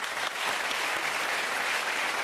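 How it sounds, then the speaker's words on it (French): A television studio audience applauds a songwriter on a Sunday variety show, the full, even clapping holding steady and loud from start to finish. "qu'on applaudit"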